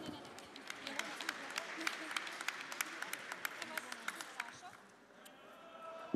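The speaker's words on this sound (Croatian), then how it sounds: "Molim vas jedan aplauz za ove divne domaćine." A crowd applauds the hosts at a Šumadija games show finale, sustained clapping with sharp individual claps standing out, fading slightly near the end.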